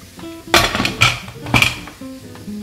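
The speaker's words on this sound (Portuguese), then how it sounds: "vou passar essa panela aqui para trás" A metal pressure-cooker pot is shifted on a kitchen stove, giving three loud, close clanks and scrapes with softer rattles between them.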